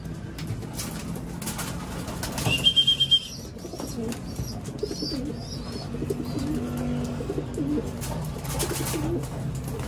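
Pigeons coo softly nearby while bathing in water amid a steady background hum, with a short burst of chirps and faint wing flutters early on.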